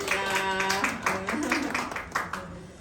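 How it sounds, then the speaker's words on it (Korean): A church congregation clapping during a Sunday service, a short run of rhythmic handclaps at moderate volume heard under a speaking voice. "박수를 좀 쳐볼까요?"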